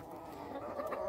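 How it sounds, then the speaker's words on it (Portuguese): Two roosters fight inside a henhouse in a country setting, a steady, fairly close run of clucking and agitated fowl calls lasting about a second. "Aqui temos uma briga de 2 galos, entre estes dois."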